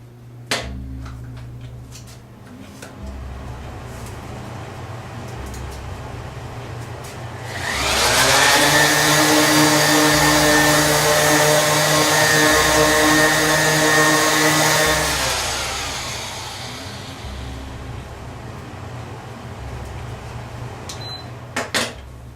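Workshop air cleaner running while cabinets are sanded with 220-grit paper, a loud broadband whir rising from a steady low hum and fading back after several seconds, over a rhythmic background drone.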